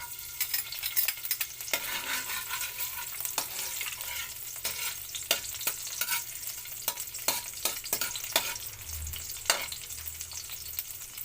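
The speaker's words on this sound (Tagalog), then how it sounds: "Pag mainit na po ang mantika, isunod po natin ang bawang." Garlic sizzles steadily in hot cooking oil, the start of a moringa fruit dish. Repeated scrapes and clacks from stirring break through the constant crackle, close by, with no one talking.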